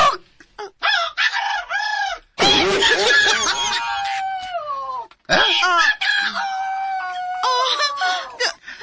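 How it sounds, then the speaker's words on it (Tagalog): Chickens cluck and a rooster crows loudly nearby, several long drawn-out crows with rising and falling calls between shorter clucking bursts and brief pauses. "Manok! Tingog manok!"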